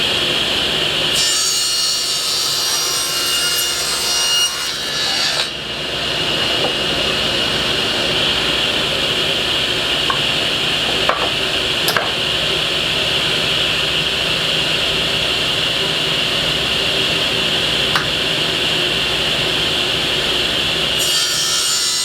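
Hand sawing through a board of wood cut to 17.5 by 10.5 inches for a washer hockey game, a steady continuous rasping that runs nearly the whole time, close and loud, with a few sharp clicks and no talking.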